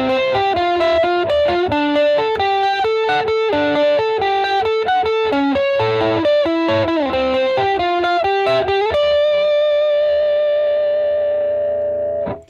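A distorted electric guitar plays the chorus riff alone, a rapid sequence of picked notes with ringing overtones and a final sustained chord fading out.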